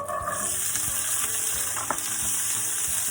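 Steady sizzling of carrots, onions and celery frying in a pan for a steak pie, close and continuous, with faint clinks and stirring noises in the background.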